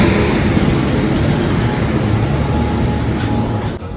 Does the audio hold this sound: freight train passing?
yes